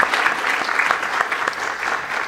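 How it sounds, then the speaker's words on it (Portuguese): Applause from a church congregation, a dense steady patter of many hands clapping close by, sustained throughout with no talk over it. "Aplauso, gente."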